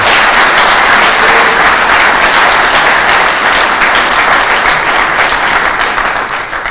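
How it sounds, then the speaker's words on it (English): Loud, close audience applause honoring a group of entrepreneurs at a reception, a thick continuous roar of clapping hands that stays strong for several seconds before tapering off near the end. "Can I ask you to give them another clap hand for all of them?"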